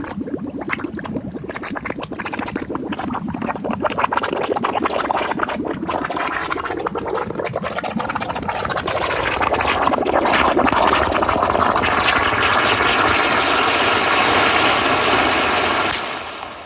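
A large firework fountain, lit and held underwater, gives a steady loud fizzing and bubbling hiss that keeps on and grows fuller toward the end before cutting off.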